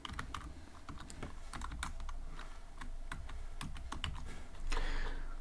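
Close, fairly quiet keyboard typing on a computer during Python coding: a steady run of quick, light key clicks with brief pauses, no voices.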